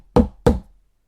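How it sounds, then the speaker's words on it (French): Two firm knocks sound on a cave door, evenly spaced and close, each with a short dull decay, then silence. "tout à coup, quelqu'un frappa à la porte de la caverne"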